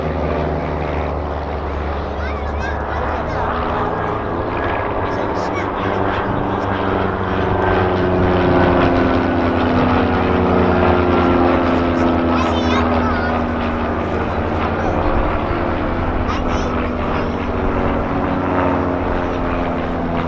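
Saab T-17 Supporter propeller aircraft of the Air Force Baby Blue display team take off at the RAF Cosford Airshow, a loud sustained droning engine roar that swells and shifts in pitch over about twenty seconds.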